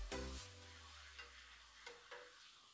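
Homemade urad dal papad frying in hot oil, with a soft sizzle and a few light stirring or scraping touches after a brief low hum at the start. No one speaks.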